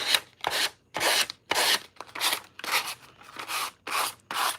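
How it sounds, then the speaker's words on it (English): Rhythmic sanding with a hand block, about ten firm back-and-forth strokes, close and loud with short gaps between them. "I'm just going to sand it off."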